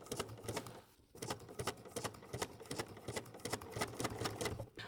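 A sewing machine stitches slowly around a sharp corner of a wool applique parrot, its needle pattering in short bursts with one brief pause, close and steady with no talking.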